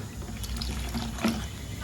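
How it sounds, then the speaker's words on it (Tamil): Water is poured into a pot of pepper rasam, a brief, soft liquid splash and gurgle heard close up with no talking. "ரசத்துக்கு தேவையான அளவு தண்ணி ஊற்றிக்கலாம்"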